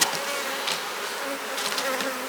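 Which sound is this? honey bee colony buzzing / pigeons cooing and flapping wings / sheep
honey bee colony buzzing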